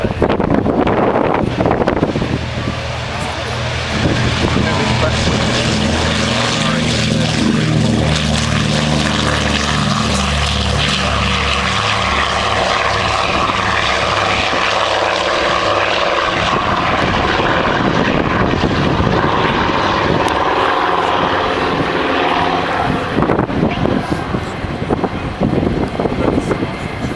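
Engines of a Catalina aircraft roar loudly and continuously during its takeoff run, a dense propeller drone with shifting tones, heavy wind buffeting the microphone throughout.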